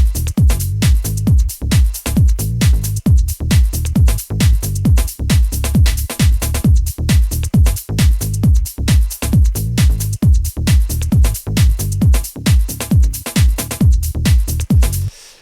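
Electronic music loop with a punchy kick drum pulsing steadily under a deep synthesized bass line and hi-hats, loud and continuous with no voices.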